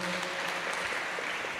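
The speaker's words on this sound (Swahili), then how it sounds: "Asanti sana, tuwapigie makofi" Applause from a church congregation at a Kikuyu Sunday service, a dense, steady wash of many hands clapping close by, filling the whole moment without pause.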